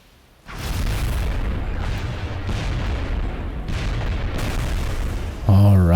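A soldier's shot in XCOM Enemy Within fires as a heavy booming blast that rolls into sustained rumbling, ending in a sharp electronic tone.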